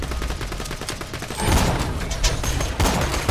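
Rapid gunfire in Borderlands 2, dense bursts of close, loud shots with a heavier blast midway, cracking over continuous game noise.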